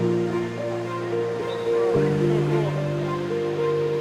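Steady rush of splashing water from the Trevi Fountain in Rome, a continuous wash of moderate loudness with faint crowd murmur and tonal hums mixed in.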